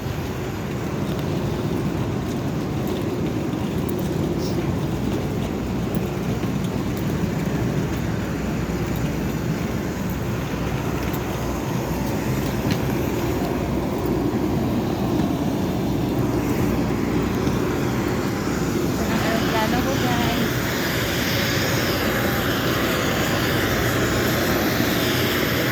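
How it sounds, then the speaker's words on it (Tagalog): An airplane at Bicol International Airport in Daraga, Albay rumbles with a steady engine drone, continuous and moderately loud for about twenty-five seconds, mixed with general airport ambience and no talking. "Ayun ang aeroplano ko."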